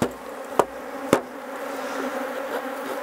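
A steady hum of many honey bees buzzing close by at a hive as they are knocked off the hive floor, with a few sharp knocks near the start and no talking.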